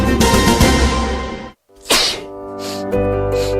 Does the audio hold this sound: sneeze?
yes